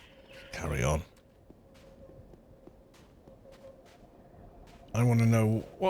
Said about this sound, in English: what is that thing that sounds like a cuckoo in the background?